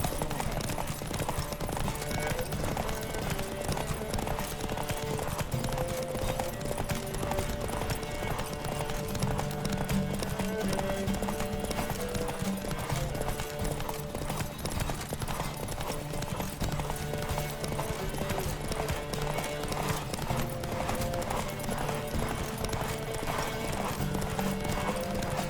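Horse hooves gallop in The Witcher 3 video game, a continuous rapid clip-clop pounding steadily for the whole stretch over a dense bed of game sound, with no talk.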